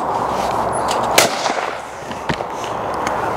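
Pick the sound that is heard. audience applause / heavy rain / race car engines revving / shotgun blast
shotgun blast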